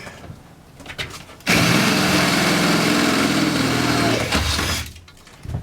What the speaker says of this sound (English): he's just going to drill that through this front wall